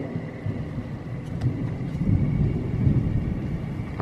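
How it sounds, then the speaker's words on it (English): Low rumbling thunder from an approaching summer thunderstorm rolls on continuously and grows slightly louder toward the end, heard outdoors with no talking. "I don't know whether you can hear the thunder"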